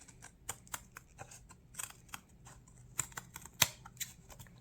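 Small trims along the edge of a paper notepad, a quiet run of soft, crisp snips and taps at close range, irregularly spaced, with one sharper click near the end.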